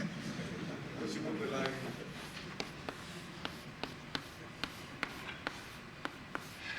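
Chalk tapping and scratching on a board during a mathematics lecture, a quiet run of sharp, evenly spaced taps after a stretch of soft scraping.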